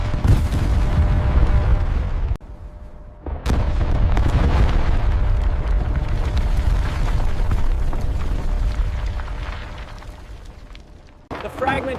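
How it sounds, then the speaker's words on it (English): Explosive charges detonate to blast apart a mountain for airport construction in China, giving a sharp opening bang, then a long, loud, rolling roar that holds steady and then slowly dies away, with a second burst at the very end. "Fire in the hole. Detonation sequence active."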